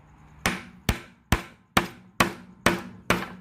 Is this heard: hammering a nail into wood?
yes